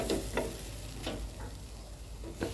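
Spiced food fries in a pan for a Bengali Puja-special recipe, with a steady hiss broken by a few sharp scraping stirs. The sizzling is close and fairly soft, and no one talks over it.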